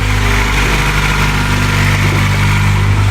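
A 1996 Acura Integra engine idling just after first starting following a head gasket replacement, a loud, steady rumble that runs unbroken with no voices.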